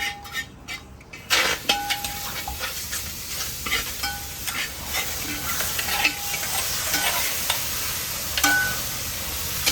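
Beef tripe rubbed with masala and turmeric sizzles steadily in a hot pan, with a sharp burst at the start, then continuous frying crackle punctuated by brief metallic clinks and stirring scrapes, close and without talk.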